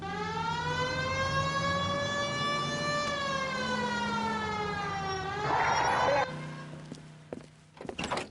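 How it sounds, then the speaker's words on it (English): A police car siren wails long and loud in the L.A. Noire video game, its pitch rising and falling in steady sweeps before cutting off, followed by a few soft thunks and brief sounds. "Hit the siren."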